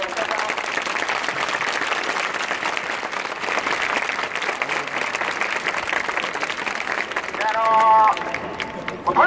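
Football supporters at a stadium match against Cerezo Osaka clap and cheer in a steady, dense crowd roar, with rhythmic handclaps running through the noise and a brief louder burst near the end.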